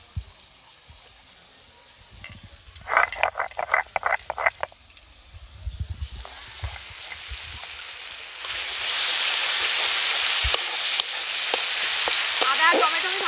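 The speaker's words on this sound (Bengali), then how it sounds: "আদা আর টমেটো আমি ভালো করে ভেজে নিয়েছি।" Ginger and tomato paste frying in oil in a kadai, with a burst of stirring scrapes early on and then a louder, steady sizzle that builds and holds near the end.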